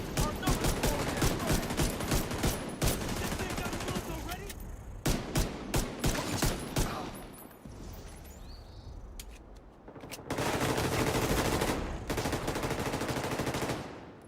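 Bursts of pistol gunfire from The Division 2, sharp rapid shots in clustered volleys with short pauses between, fairly loud throughout with game sounds behind and a voice talking at times.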